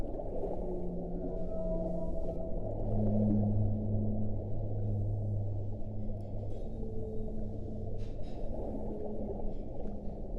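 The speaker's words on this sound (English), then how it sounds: "I'll give you a taste of the whale song." Recorded whale song, low moaning and sliding tonal calls rising and falling over a dense rumbling underwater wash, continuous and fairly loud with no voices.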